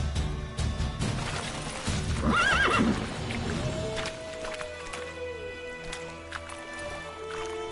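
Roach, a horse in The Witcher 3, gives a loud, rising whinny over the rapid clip-clop of hooves near at hand, followed by lighter hoofbeats and a low wind-like ambience.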